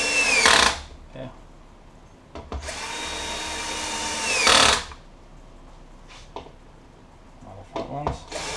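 A cordless power driver on a low torque setting tightens screws on a Metroboard Slim skateboard's brushless outrunner motor, giving three loud whirring bursts with quieter handling noises between them.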